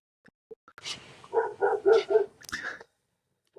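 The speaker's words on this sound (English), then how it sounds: "Oh, there's Nick's neighbor's dog" A neighbor's dog barks several times in a quick burst, fairly close and clear against an otherwise quiet room, with a short yip at the end.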